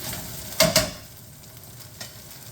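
Green pepper stirred into a hot pan for chicken paprikash: two quick metal clanks of the utensil, then a soft, steady sizzle that fades, with one more light knock near the end.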